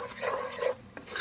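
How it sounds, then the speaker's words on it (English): Spices, onions, ginger, garlic and green chili are stirred in a pan for a Goan egg masala curry, with a spoon scraping and shuffling against the pan over a light sizzle, close and brief. "I'm nicely blending all the spices, onions and ginger garlic and green chili."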